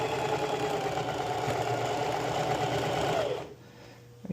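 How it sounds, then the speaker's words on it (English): A sewing machine stitches a sundress with a steady, close mechanical whir that runs evenly, then stops abruptly near the end, leaving a quiet room. "is that sewing? Yeah, you're sewing."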